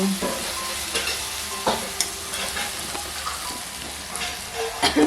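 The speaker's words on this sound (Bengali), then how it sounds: "দেখো আমটা ভাজা ভাজা হয়ে গেছে, একটু হালকা অল্পই ভাজলাম।" Mango pieces fry in a pan with a steady close sizzle, broken by repeated stirring scrapes and light knocks of a spatula against the pan.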